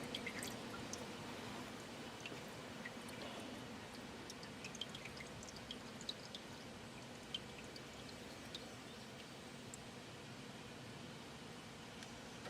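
Car engine oil drains from a removed oil filter, a faint steady trickle with scattered small drips, heard up close in a quiet space.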